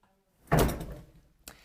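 A safe door fitted with a SECURAM ProLogic electronic lock swings open with one solid thunk after a short silence, then a second quieter knock follows; close and clear, with no talking.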